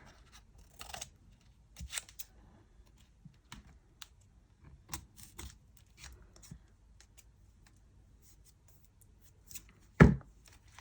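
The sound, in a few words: scissors trimming a paper flap on canvas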